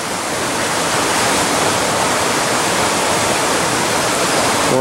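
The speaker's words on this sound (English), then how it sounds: "And this is actually the confluence of two streams." Water flows steadily where two small woodland streams meet on Pounder Branch below a waterfall, a loud continuous rushing wash that holds unbroken throughout with no voices.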